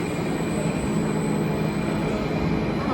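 A Phoenix Rising roller coaster train in the game Theme Park Tempo rumbles on its track, a steady rolling roar with a faint squeal, quiet and continuous.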